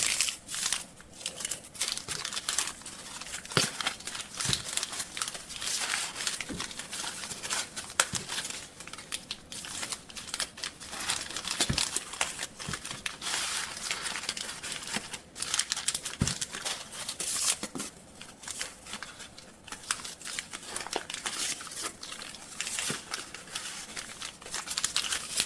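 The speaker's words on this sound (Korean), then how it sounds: "다른 종이끈을 위아래로 번갈아 넣어주세요. 화면처럼 하나씩 차례로 엮어줍니다." Paper cords rustle and crinkle as they are woven over and under into a basket base, a continuous close scratchy crumpling with scattered sharper crackles throughout.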